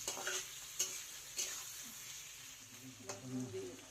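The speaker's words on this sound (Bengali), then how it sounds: "আগে আলুটা আগে ভাজা করে নিই, ভাজা করে তারপর লাস্টে বেগুনটা দেবো।" Potatoes frying in a pan for a fish, eggplant and potato curry, with a soft continuous sizzle and several scraping stirs and utensil taps, fairly quiet and close.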